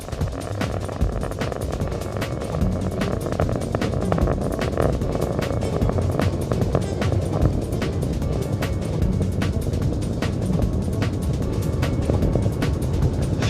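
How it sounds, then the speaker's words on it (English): Space Shuttle Atlantis's main engines roar through a launch on its 2001 flight, a loud, steady, dense low rumble with crackling texture that holds for the whole stretch without a break. "preparing to begin throttle down of the main engines as the vehicle prepares to pass through the area of maximum dynamic pressure"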